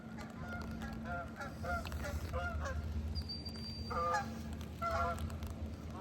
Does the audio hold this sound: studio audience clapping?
no